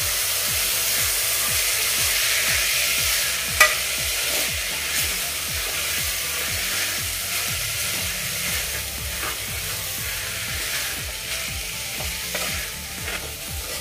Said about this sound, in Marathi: आता आपण ह्या डाळी मस्तपैकी मिक्स करून घेऊया त्या मसाल्यांमध्ये